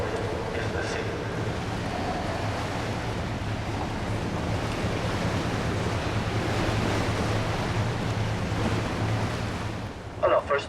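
Sea waves wash steadily off the Amalfi Coast near the Emerald Cave, heard from a boat as a constant loud surf roar with wind rumble and an engine hum, ending in a few clattering knocks.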